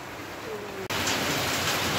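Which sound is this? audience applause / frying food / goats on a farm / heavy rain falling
heavy rain falling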